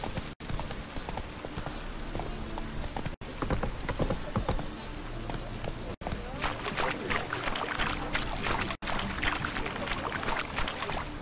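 Hooves of Geralt's horse Roach pound in a steady galloping rhythm across open ground in The Witcher 3, close and continuous with wind and ambient noise behind.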